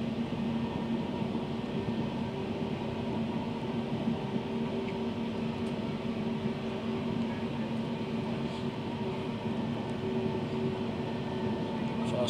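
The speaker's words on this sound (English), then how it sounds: "First time ever travelling on Northern, and it's a class 331." A Northern class 331 electric train departing Crewe runs at speed, giving a steady, even hum and rumble heard from inside the carriage without a break.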